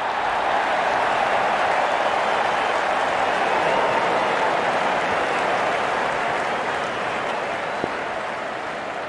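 Virtual stadium crowd in the Real Cricket 22 game cheers as the openers walk out, a steady, dense wash of roaring noise that holds level throughout with no break.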